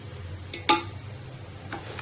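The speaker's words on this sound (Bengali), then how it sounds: "তিনটা এলাচি 2টা দারচিনি দিয়ে আমি পোলা চালটাকে ভেজে নিচ্ছি।" Polao rice frying in a pot with three cardamom pods and two cinnamon sticks, a quiet sizzle with a couple of sharp spoon clinks and stirring scrapes against the pan.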